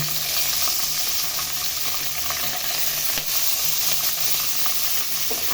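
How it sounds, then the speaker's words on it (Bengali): River fish frying in hot oil in a pan on a stove, a steady, dense crackling sizzle that holds loud and even throughout, with no voices. "মাছটা চুলাই আমি দিয়ে দিচ্ছি"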